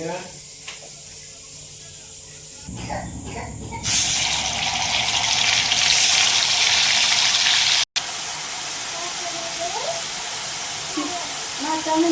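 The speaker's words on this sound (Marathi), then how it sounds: "तर तेल टाकून जिरे टाकलेत आणि वाटण सगळं टाकले" Cumin seeds and ground spice paste go into hot oil. A loud, broad hiss bursts in a few seconds in and keeps roaring, with a brief gap, after quieter kitchen sounds and a voice at the start.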